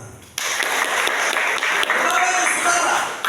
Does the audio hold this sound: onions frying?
no